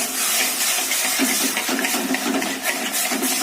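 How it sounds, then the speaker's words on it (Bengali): Water is poured into a pan of fried semolina for upma, a steady, close gushing splash that lasts throughout with no talking. "এবার একটু জল দিয়ে দিই।"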